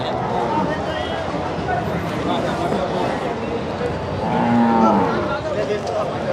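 Buffaloes and their calves low and moo at a busy livestock market in Hyderabad, with several animals calling over a steady crowd babble and people talking nearby.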